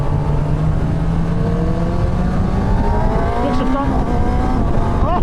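A 2017 Kawasaki ZX10R sportbike revving on twisty roads: a steady, loud engine whine climbs gradually in pitch under heavy wind rush, with no talking.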